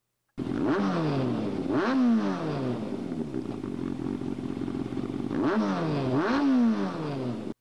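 An engine in a garage in a video game revs up sharply twice, settles into a steady drone, then revs twice again, loud and close with a rattling, slightly synthetic quality.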